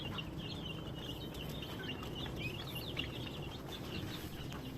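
Turkeys and chicks crowded together in a cramped coop, with steady clucking and high chirping calls layered over a constant low rustle, close and continuous.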